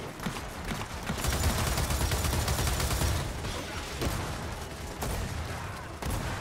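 Dense, sustained gunfire from the video game Gears of War 4: rapid overlapping bursts fire loudly and continuously, with automatic weapons crackling and no talk.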